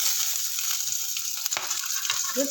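Pirandai, or adamant creeper, sautéing in a pan, a close, continuous hiss of frying with occasional stirring scrapes and one sharper knock partway through, and nobody speaking.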